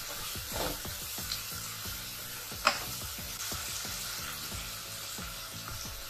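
Onions and pork belly fry gently in a pan, giving a soft, steady sizzle with quick crackling pops throughout and one brief knock, close but quiet, with no voices.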